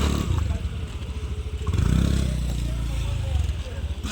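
Low motorbike engine rumble close by as a bike pulls up and settles near a temple, with clattering under a voice talking over it.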